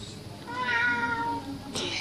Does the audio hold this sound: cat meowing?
yes